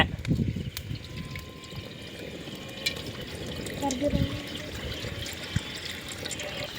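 Cooking oil pours into a pan at an outdoor village cookout, a soft liquid trickle and splash that runs under people talking.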